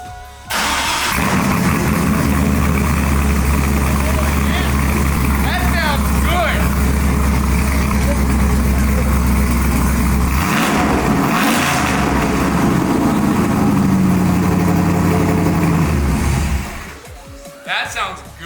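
An untuned 6-liter V8 in a Chevy Silverado truck, running a little rough and rich, fires up and idles with a loud, steady, throaty rumble and a couple of revs, close up, before shutting off near the end.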